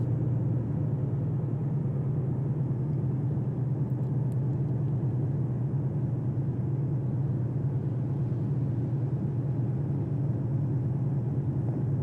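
A Volvo truck drives out of London at speed in Euro Truck Simulator: a steady, low, droning engine rumble with road noise holds at an even level throughout, and no one speaks.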